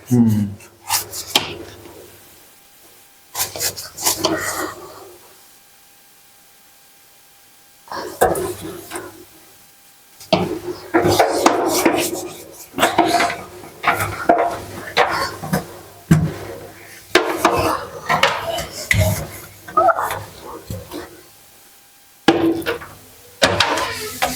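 Dishes being scrubbed and washed by hand in a home, with bursts of clattering, rubbing and scraping of utensils separated by pauses, while people talk intermittently over the work.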